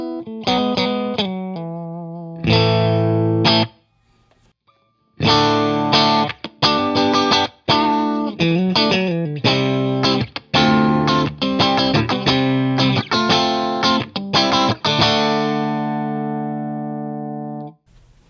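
Electric guitar with single-coil pickups plays rock riffs and chords through a Friedman BE100 Deluxe 100-watt tube head, its overdriven tone loud and up front, with a short pause near the start and no talking.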